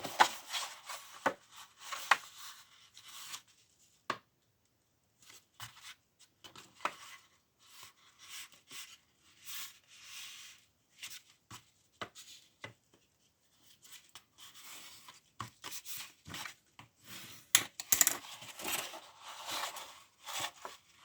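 A bone folder pressed and drawn along paper folds, producing soft scraping rubs and light taps in irregular bursts separated by quiet pauses, close by and with no talking.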